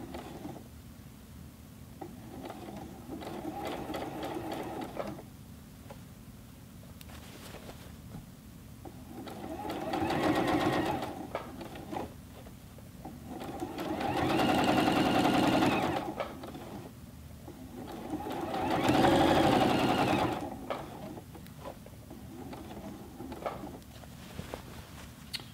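A Juki G210 sewing machine stitches a thick denim jeans leg hem in three separate runs of steady mechanical whirring, each swelling louder, with quieter handling noises in the pauses.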